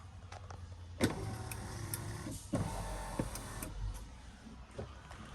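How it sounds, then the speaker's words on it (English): A pet van's hydraulic pump motor spools up but the pump does not engage. A faint electric whir comes in short bursts, with sharp clicks and knocks in between. "Now all I'm getting is the motor spooling up"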